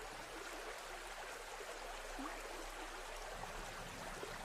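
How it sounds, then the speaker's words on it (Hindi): Water in a stream-like flow, splashed while someone washes their face, heard as a faint, steady trickling rush with light splashy texture throughout, fairly distant and quiet, with no voices. "मैं जरा मुंह धोऊं।"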